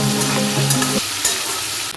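Mango pieces frying with turmeric and salt in a pan, a near, steady sizzle and stirring with a sustained tonal hum that cuts out partway, leaving crackling alone.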